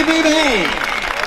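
Spectators clap at an outdoor shooting volleyball match, a brief patter of applause running under a man's loud, excited voice.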